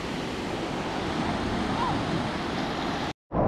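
Ocean waves at Destin beach roll in as a close, steady roar of surf with wind noise, cut off by a brief silence just before the end.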